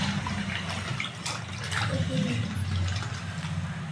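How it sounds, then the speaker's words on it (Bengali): Water splashing and running as tomatoes are rinsed in a kitchen while preparing cabbage ghonto, with intermittent gurgles and drips at moderate close range. "টমেটোটাকেও ধুয়ে নিচ্ছি।"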